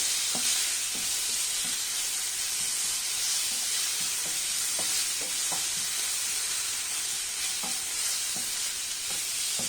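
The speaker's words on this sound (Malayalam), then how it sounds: "ഒരല്പ നേരം ഇതൊന്ന് ഇളക്കി കൊടുക്കാം" Mango pickle cooks in a pan over a raised flame, a dense steady hiss and sizzle running throughout, broken by scattered light scraping taps of stirring, with no voices.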